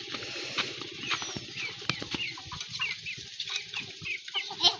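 Hens in a chicken coop, a close, busy chorus of short overlapping clucks and squawks that carries on throughout with no voices over it.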